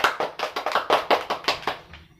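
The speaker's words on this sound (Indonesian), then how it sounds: "Tepuk tangan dulu." A classroom of students claps hands together in about ten loud, even bursts that fade out near the end, close and clear with no talking over them.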